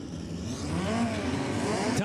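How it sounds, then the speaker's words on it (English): An old Toyota engine in a midget race car revs on an oval speedway track, a mid-pitched rising drone that holds steady for a couple of seconds, moderately distant and under the general noise of the racing. "the old Toyota comes to life underneath the hood"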